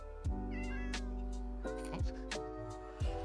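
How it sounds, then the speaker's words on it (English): Minecraft cats meow several times in a survival world, short clear calls repeating at uneven intervals over a steady background of game music and ambient tones. "Why do I hear cats?"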